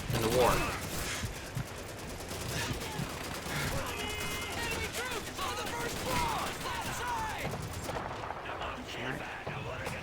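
Gunfire in the World War II shooter Call of Duty 2, with bursts of rapid shots and distant battle noise mixed with someone talking over the action throughout.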